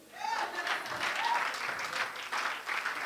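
Church congregation applauding and cheering, a sustained burst of dense clapping with scattered vocal cheers and whoops, moderately distant and steady throughout.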